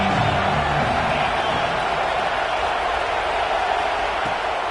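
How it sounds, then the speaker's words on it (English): A football stadium crowd roars during a third-down defensive play, the noise a dense, sustained wall of cheering and shouting that holds steady at moderate loudness with no clear pauses. "Decibels rising as the crowd gets behind this defense on third down."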